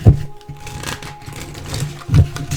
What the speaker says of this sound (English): Well, they're so new that they won't shuffle, but there we go.